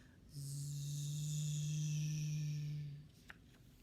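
A voice imitates a lawnmower with a steady, droning buzz held for about three seconds, then stops abruptly.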